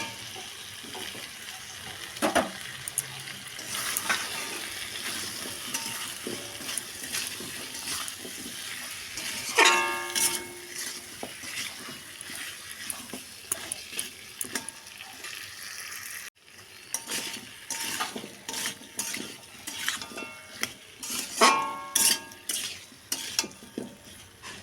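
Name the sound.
water added from washing the spice bowl, curry stirred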